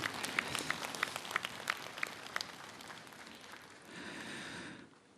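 Crowd applause at a national rally of Buddhist monks, a fairly distant wash of clapping with a few sharper individual claps near the start, swelling briefly near the end before cutting off.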